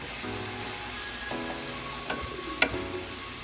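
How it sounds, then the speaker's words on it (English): Onions and thyme frying in a pan for vegan curry chayote, a soft, steady sizzle with a few utensil taps and a sharper clink near the end, close and fairly quiet, no voices. "you're gonna let this fry down for a few minutes"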